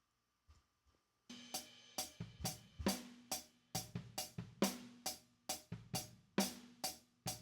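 A quick run of crisp hi-hat strikes with bright hissing metallic tops, processed, steady and busy after a couple of soft lead-in taps.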